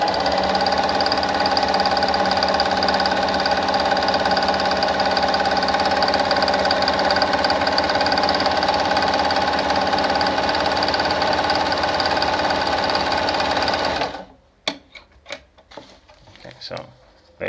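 A Pfaff model 9 sewing machine stitches at a fast, steady whir for about fourteen seconds, loud and close. It then stops abruptly, leaving a few clicks and mechanical knocks.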